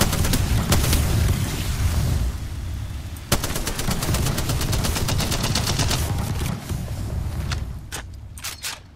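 Rapid automatic fire from a modded Spitfire weapon in Apex Legends, a loud continuous burst of gunshots running almost the whole time, with a brief sharper crack partway and a few spaced final shots near the end.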